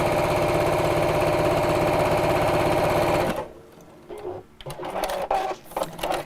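A home sewing machine runs a quarter-inch seam in a fast, even mechanical whirr for about three seconds, then stops, leaving quiet handling noises and faint room sounds.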